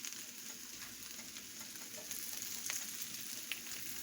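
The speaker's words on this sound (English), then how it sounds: "stir these sausages in here with these potatoes" Smoked sausage and potatoes sautéing in a skillet, stirred now and then: a soft, steady sizzle and crackle with occasional scrapes and clicks of the utensil, fairly quiet and with no voices.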